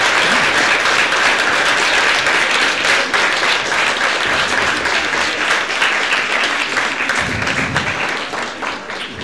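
A lecture hall audience gives loud, dense, sustained applause after an anthropology lecture, the clapping fading slightly toward the end.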